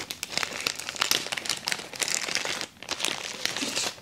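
Plastic Ziploc bag holding Gentle Monster sunglasses crinkling close by during unboxing, a dense run of sharp rustles and crackles with brief pauses, no speech over it.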